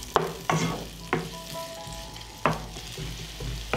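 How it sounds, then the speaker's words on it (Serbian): Onion and garlic sizzle loudly in hot fat, broken by several sharp scraping clinks as the pan is stirred. "dodajem luk, dodajem beli luk i pržit ću dok luk ne omekša"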